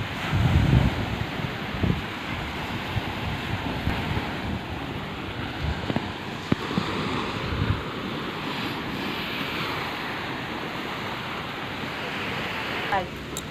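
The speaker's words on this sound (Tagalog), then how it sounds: "Maalon siya." Rough sea surf washing steadily onto the shore at Palm Bay Beach in Sariaya, Quezon, a continuous broad roar with gusty wind buffeting the microphone and faint voices in the background.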